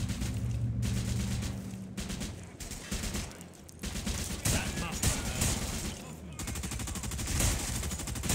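Machine gun fire in the World War II shooter game RAID: World War II, loud rapid bursts and overlapping gunshots with brief pauses, voices talking over the battle.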